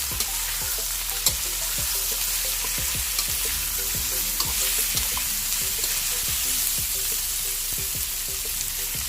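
Tofu pieces frying in a hot pan with a constant loud sizzle and crackle, and repeated light clicks of a utensil stirring at a steady pace, close by with no talking.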